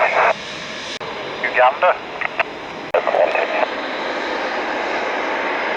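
A Eurofighter Typhoon jet takes off on a hot afternoon, a steady broad engine roar filling the whole stretch while radio voices talk over it.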